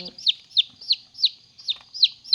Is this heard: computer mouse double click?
no